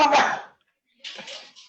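One loud, close sneeze bursts out. After a short pause, a voice briefly speaks.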